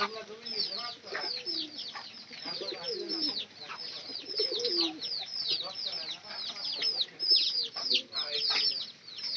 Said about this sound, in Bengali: আর কবুতর গুলা দেখেন কিভাবে করতেছে